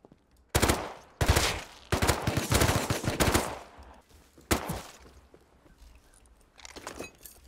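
Automatic gunfire in the Rust survival game: several loud, close bursts of rapid shots, the longest lasting about two seconds, with brief gaps between them and a few fainter, more distant shots near the end.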